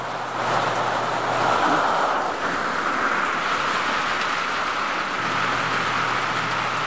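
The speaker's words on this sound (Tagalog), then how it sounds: "Lakas ng ulan dito" Heavy rain pours steadily in a dense, hissing wash, with a faint low hum in the background at the start and end.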